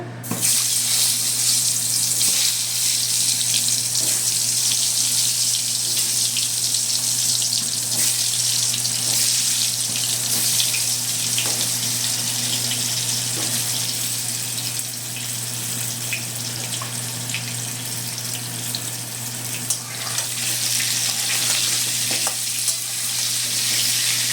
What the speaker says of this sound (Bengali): আলুগুলো এবার ভেজে নেব।